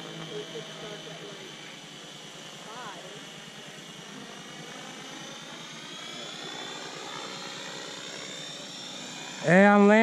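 Freewing MiG-29 Fulcrum RC model jet coming in to land, a steady high turbine-like whine sweeping gradually in pitch throughout, with a voice breaking in loudly at the very end.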